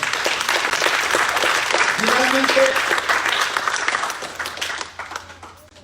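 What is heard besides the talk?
applause for the Lord in church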